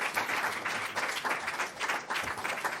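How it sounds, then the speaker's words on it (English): An audience at a religious gathering gives a warm round of applause as a minister is brought on: dense, steady clapping from many hands throughout, with no speech over it. "Let's bring him on with a warm round of applause."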